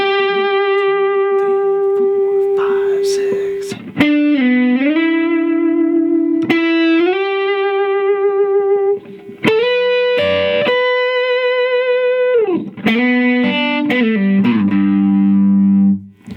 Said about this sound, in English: This is going to be the guitar solo section.